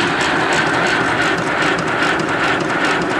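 A garden scale steam locomotive runs on CO2 while raised on rollers, giving a loud, steady rushing hiss that holds without a break from start to finish.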